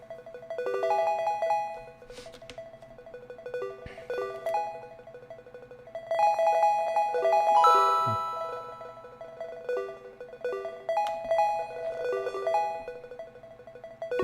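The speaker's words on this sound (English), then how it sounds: "I think it just hit 3 sevens on a slot machine." Bright electronic slot machine jackpot chimes after hitting three sevens, a run of beeping, ringing tones in quick bursts like an old Atari game, moderately loud with short pauses between flurries.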